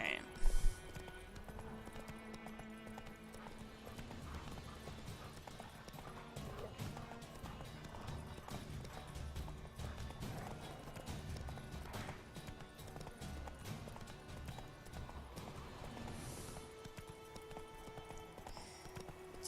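Geralt's horse Roach gallops in The Witcher 3, a steady, continuous run of hoofbeats that stays close and even throughout, layered with game ambience and a speaking voice.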